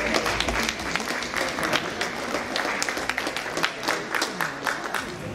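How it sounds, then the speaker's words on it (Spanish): An audience applauds steadily for several seconds at a collectors' show of Hot Wheels cars, the clapping dense and continuous with a faint murmur of crowd noise beneath. "Felicidades, un aplauso."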